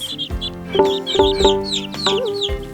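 Chicken clucking sounds in a Serbian children's farm song, several short clucks in an uneven rhythm over sustained musical tones, fairly loud and close.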